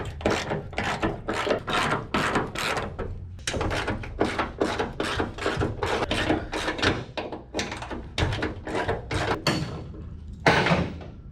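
Half-inch bolts being ratcheted off a 1969 Chevelle body panel, a long run of rapid evenly spaced clicks and knocks with a brief pause and a louder final knock, close-up, no speech.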